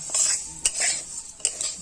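Moong dal frying in oil in a pan while being stirred, with soft sizzling and a couple of sharp scrapes of a utensil against the pan.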